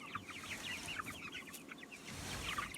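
Broiler chickens out on pasture cluck and chatter in a busy, overlapping stream of short calls, fairly faint and at some distance, with a low outdoor rumble beneath and no human voices.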